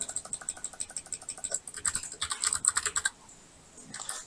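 Rapid keyboard typing, a steady run of close, crisp key clicks that pauses briefly near the end before a couple more taps, including a Ctrl+Enter shortcut.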